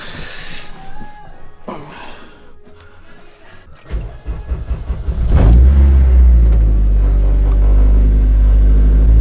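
An Acura RSX engine cranks and catches at about five seconds, then settles into a loud, steady idle after some earlier clicks and clatter from the car.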